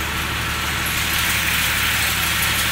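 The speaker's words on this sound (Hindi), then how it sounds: "इस साइड पे मेरे ख्याल जनरेटर चल रहा है जिसका ये शोर है।" A generator runs nearby with a steady, idling engine drone that stays even and unbroken throughout, with no talking.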